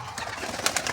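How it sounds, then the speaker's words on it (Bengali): An Andhra breed pigeon coos softly close by, a few low throaty murmurs followed by brief fluttery rustles, with no talking. "পায়রাটা খুব ভালো পায়রা তার মানে।"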